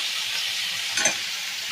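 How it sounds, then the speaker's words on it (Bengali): Fish pieces fry in hot oil in a home kitchen, a loud continuous hiss close by that swells briefly in a burst of spattering before settling back to a steady sizzle. "তেল গরম হয়ে গেছে, মাছগুলো দিয়ে দেবো।"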